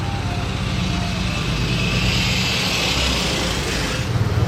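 A glacier-white Mercedes-AMG GT R sweeps past on the road as a steady, loud engine roar with broad road noise, swelling slightly near the end.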